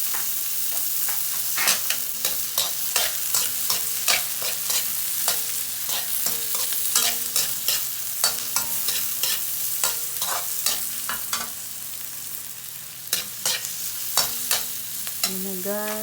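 Tomatoes being stirred in a frying pan for binagoongan, with steady scraping strokes and sharp utensil clicks over a continuous sizzle, close and fairly loud, no voices.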